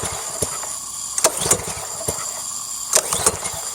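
A Honda GCV190 small engine on a Ryobi pressure washer runs unevenly close by, with a steady rough drone broken by irregular sharp clicks and knocks.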